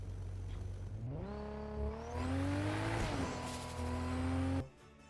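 Car engine in the Fortnite video game revs and accelerates through rising gear pulls with a brief tire squeal, loud and continuous for about five seconds before cutting off.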